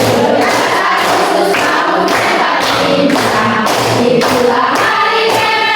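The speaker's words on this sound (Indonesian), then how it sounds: "kita pakai tepukan tangan supaya serentak" Audience hands clapping together in unison to a steady beat, loud and rhythmic, with a song sung along over the claps at an Indonesian Independence Day classroom gathering.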